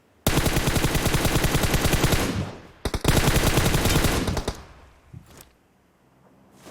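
Long bursts of automatic gunfire in PUBG Mobile, a rapid loud machine-gun rattle for about two and a half seconds, a brief break, then another sustained burst that cuts off, followed by a couple of faint isolated shots.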